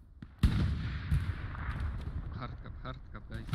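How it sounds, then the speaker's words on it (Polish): A sudden sharp gunshot from behind in the WWII shooter Hell Let Loose, a loud crack followed by rumbling battlefield noise and distant booms, with someone talking over it. "Wow, skąd ten strzał się w ogóle wziął?"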